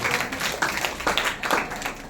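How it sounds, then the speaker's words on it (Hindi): A church congregation claps together in a short burst of scattered, overlapping hand claps that is fairly loud and close and fades after about two seconds. "उनके लिए ताली बजाएं कि अगले संडे लेके आएंगे आप।"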